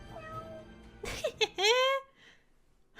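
A cat in a steampunk visual-novel scene gives a single rising, drawn-out meow near the microphone, with faint music and room tone before it.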